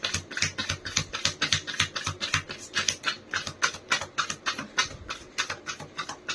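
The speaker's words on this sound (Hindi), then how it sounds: "एक लास्ट शफल और करूंगी मैं।" Tarot cards being shuffled, a quick, even run of crisp riffling flicks repeating rapidly and close by, fairly quiet, with no voices.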